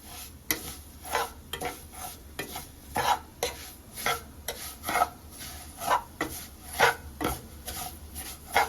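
Sev vermicelli roasts slowly in a pan over a low gas flame, with soft sizzling beneath steady rhythmic scraping and stirring strokes, close and moderately quiet.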